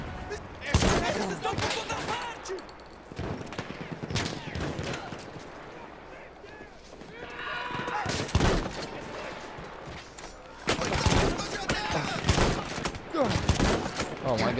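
Gunfire in the Battlefield 1 video game, with heavy 12-gauge shotgun blasts among bursts of surrounding battle fire, loud and repeated, while a player talks over the game sound.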